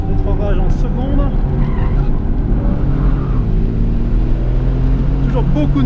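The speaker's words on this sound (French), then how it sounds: "Rétrograge en seconde." GTA car on a race circuit downshifting into second gear, engine droning loudly with pitch sweeps from the revs, heard close from inside the car while someone speaks over it.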